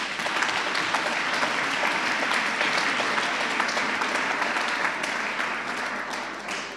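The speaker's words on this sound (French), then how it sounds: "Donc un grand applaudissement," Steady, dense applause from an audience at the Swiss Who's Who Women Awards 2026 ceremony, sustained at even strength and fading slightly at the end, with no talk over it.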